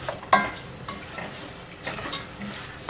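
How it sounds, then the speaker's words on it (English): Lentils sizzle and crackle in hot flavored ghee for a pasta sauce, a steady close frying hiss with a few sharper pops and the occasional scrape of stirring. "we're soaking them in the hot flavored ghee"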